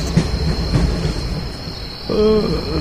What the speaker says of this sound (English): the trembling of the ground told of the approach of the train, and a low, distant rumble woke the boy